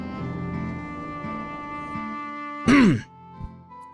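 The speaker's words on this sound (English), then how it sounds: "Sorry, getting a cough here." A single sharp cough and throat clear bursts out close to the microphone during a Final Fantasy XI gaming session, cutting over steady game music that hums along before and after.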